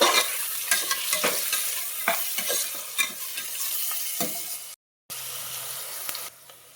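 Steady sizzling of chana dal frying in a pan, with sharp stirring scrapes and clicks throughout, a brief dropout near the end.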